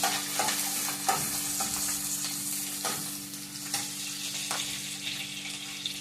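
Onion, ginger and garlic tempering frying in a pan with green chillies and curry leaves, a steady close sizzle with repeated stirring scrapes and clinks throughout, no talking.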